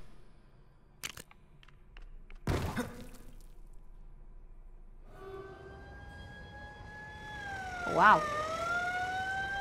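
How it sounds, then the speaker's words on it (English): A police car siren wails loudly in the LEGO Dimensions video game, its rising and falling tones entering after a few clicks and thumps and swelling to a peak, with a brief exclamation heard. "Sure, that really, really loud police car is totally unrelated."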